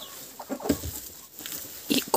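Small chicks cluck and peep in short, scattered bursts, close by and fairly soft, with quiet pauses between calls.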